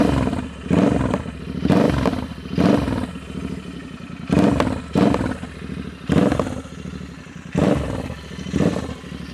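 A Royal Enfield 650 twin (GT or Interceptor) with an aftermarket exhaust is revved repeatedly, giving loud, deep rising roars in regular bursts, close to the tailpipe, with the idle burbling between blips.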